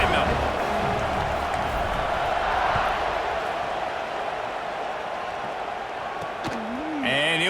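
Crowd noise fills a college football stadium before kickoff at a Veterans Day game between Tennessee and Texas A&M. The roar holds steady and broad for the whole stretch, with a brief whistle-like tone near the end.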